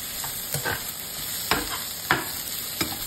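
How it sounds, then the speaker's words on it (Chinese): Green and red peppers being stir-fried in a wok for dry-pot potato slices: steady sizzling hiss broken by a few sharp scraping strokes of the spatula, close and alone with no voices. "翻炒均匀，"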